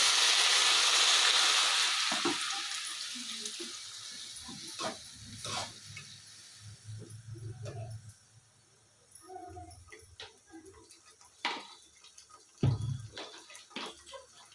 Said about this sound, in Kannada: ತಳ ಹಿಡಿಬಾರ್ದು ಅಂತ ಒಂಚೂರು ನೀರು ಹಾಕ್ಕೊಳ್ತೀನಿ